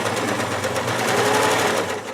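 A sewing machine runs steadily and loudly up close, back stitching black thread at the end of a pocket being sewn onto a skirt, its needle whirring in a fast even rhythm.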